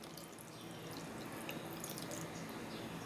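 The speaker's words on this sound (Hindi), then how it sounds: "इसके अंदर भी हम पानी डाल देंगे।" Water poured into a bowl of tamarind and dried plums for sharbat, a steady continuous trickle and splash at moderate level with no talk.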